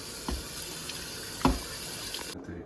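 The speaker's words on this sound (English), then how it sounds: "So now that I've broke the coconut and take out the meat, I'm gonna wash." Water runs from a tap into a sink as freshly cracked coconut meat is rinsed, a steady close wash with a few louder splashes and clunks.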